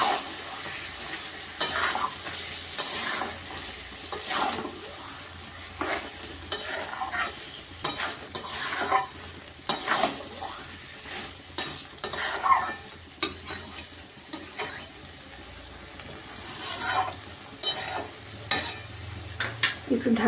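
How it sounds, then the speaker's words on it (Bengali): Chicken pieces are stirred and fried in a pan: a spatula scrapes and clacks against the metal in irregular strokes over a soft, continuous sizzle, close up, with no talking. "মাংসটা কষে নিই।"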